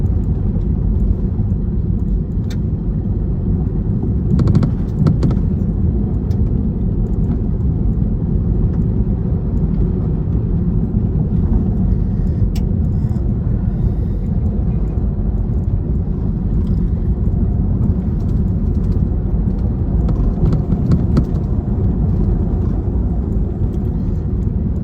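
A Jeep grinding up a forest track in a low, steady engine rumble close by, with occasional bumps and rattles and no one talking.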